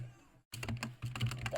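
Fast keystrokes on a computer keyboard while typing out a script, close and crisp, after a brief silence, the taps tumbling in quick uneven bursts.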